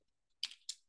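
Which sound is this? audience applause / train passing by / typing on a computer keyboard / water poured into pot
typing on a computer keyboard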